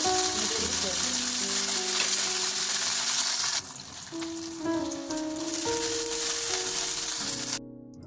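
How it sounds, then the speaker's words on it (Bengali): Black cumin seeds (kalonji) fry in hot oil in a pan with a steady, close, dense sizzle that thins out briefly midway, then rises again before cutting off near the end. "এখন সেমভাবে কালিজিরাটাকে ভেজে নেব।"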